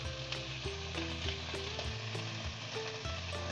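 Pork belly brushed with sauce and oil, cooking in a frying pan, sizzles steadily beneath tonal background music.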